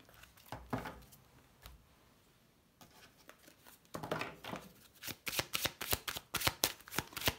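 Oracle cards are shuffled by hand: soft, faint rustling at first, then louder bursts of quick flicking and riffling close by, with no voices.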